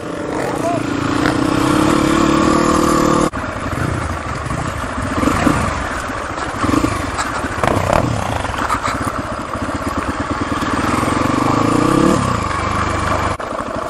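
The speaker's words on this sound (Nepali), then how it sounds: "एक दुई तिन चार पाँच छवटा है छवटा रोड बाइक" Six road motorcycles ride together, their engines droning and revving loudly at close range with shifting pitch, while a rider talks over the engine noise.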